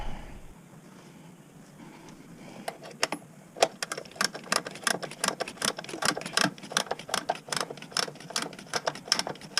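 Wrench ratcheting and tightening bolts on a Polaris snowmobile engine during installation: a run of rapid, close metallic clicks that starts after a few seconds of quiet, alone without talk.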